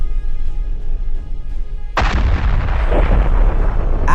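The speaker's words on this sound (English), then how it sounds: "An APC hits a mine, and its parts are scattered tens of meters in all directions." An armored personnel carrier hits a land mine: after a couple of seconds of low rumbling, a sudden loud explosion bursts out and roars on as debris scatters and the blast rolls away.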